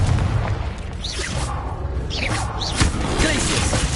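Confringo spell blasts in Hogwarts Legacy on PS5 set off dull booms and thuds amid dense game noise and whooshes, with a sharper burst near the end and voices in the mix.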